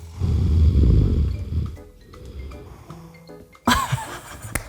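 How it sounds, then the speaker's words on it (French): A person snoring while sleeping, a couple of low rumbling snores up close, followed by quieter shuffling and then a sharp brighter burst near the end. "Ça ronfle? Attends, je vais entendre."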